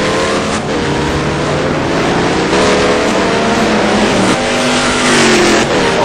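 A pack of race cars on a road course at Trois-Rivières during a Blue Cup touring series race, loud continuous engine roar with overlapping revs as several cars pass close together.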